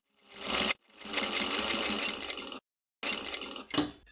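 A sewing machine stitches a curved dart on a trail running backpack in three close, moderately loud bursts of rapid mechanical whirring separated by short pauses, with no talk.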